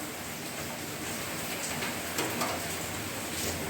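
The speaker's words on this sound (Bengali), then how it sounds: "বাইরে মুসলধারে বৃষ্টি হচ্ছে তার মধ্যেই আমি রান্না করছি কাজে একটু বৃষ্টির আওয়াজ পাবেন আপনারা" Heavy monsoon-style rain pours outside, a steady, dense hiss that fills the whole stretch evenly at a constant loudness, with no voices.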